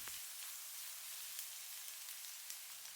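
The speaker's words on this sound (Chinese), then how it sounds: "下入切好的蒜末，炒出香味" Minced garlic sizzles steadily in hot cooking oil in a wok, a dense, even crackle at close range with no talking.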